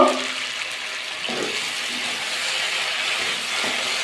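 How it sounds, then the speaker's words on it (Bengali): Water pours into a pan of cauliflower and pea curry while it cooks, making a steady rushing, splashing hiss throughout, with no talking. "এবার জল দিয়ে দেবো"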